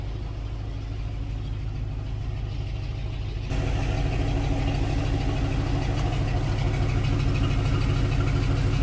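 A Chevy 1500 van engine runs smoothly after a spark plug change, a close, steady idle with an even low rumble that turns louder and fuller partway through and holds without any missing or stumbling.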